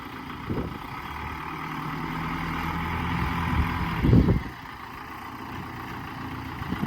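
A Belarus MTZ 892 tractor idles steadily during manure hauling, with a low, continuous engine drone and one brief louder surge midway.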